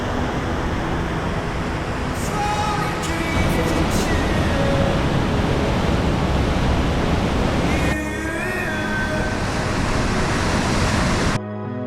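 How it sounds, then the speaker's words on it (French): Immense waterfalls on misty, cloudy terrain roar as a dense, unbroken rushing wash, loud and steady throughout with a faint murmur of voices beneath. "Il y a des cascades immenses de partout."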